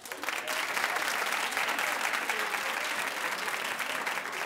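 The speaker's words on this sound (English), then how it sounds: "Clap if you do." A studio audience on a talk show bursts into sustained clapping, a bright, even wash of applause lasting several seconds at moderate volume.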